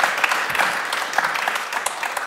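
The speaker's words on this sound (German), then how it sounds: "Jetzt dürft ihr noch mal klatschen." An audience at a panel discussion applauds, a crowd clapping in a sustained, crackling burst that slowly thins out.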